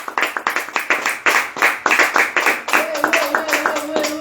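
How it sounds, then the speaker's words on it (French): Rhythmic group clapping at a French-speaking church service, near and lively, with the claps briefly spaced and then carrying on under a voice that sings or calls toward the end. "On applaudit pour la diaspora."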